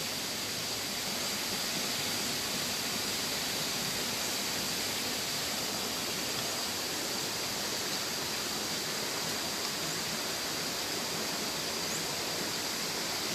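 Water runs along a small, narrow stream channel near a waterfall as a constant, even rushing hiss, unbroken and moderately quiet, with no talking.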